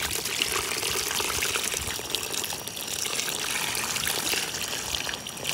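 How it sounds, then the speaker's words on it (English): Hot water pours steadily out of a wood-fired pool heater, a continuous close splashing rush with no pauses and no voices. "the water coming out of the pool heater now"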